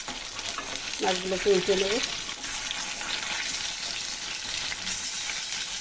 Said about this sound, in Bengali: সবগুলো মাছ একসাথে দিয়েছি, আমি হালকা একটু ভেজে নেব।